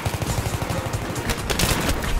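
Heavy, dense gunfire during a video game scrim: a continuous loud barrage of rapid shots and rattling bursts, intensifying toward the end, with no voices over it.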